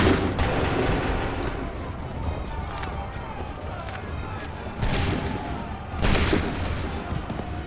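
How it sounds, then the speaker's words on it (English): Musket volleys crack and boom in a battle from the video game Assassin's Creed 3, with bursts of gunfire over rumbling, busy combat noise and shouted voices. "Open fire."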